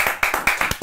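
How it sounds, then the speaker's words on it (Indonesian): A few people clap by hand at a talk show taping, about ten distinct, fairly quick claps in an uneven rhythm, close and moderately loud with no talking over them. "Tepuk tangan semuanya buat Anet."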